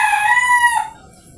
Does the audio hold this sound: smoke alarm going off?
no